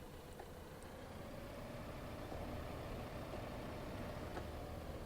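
Tractor engine idling in Farming Simulator 15, a steady low rumble held at an even level throughout with no talk over it.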